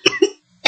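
Two quick, harsh coughs close together, a short pause, then a third cough, all loud and near.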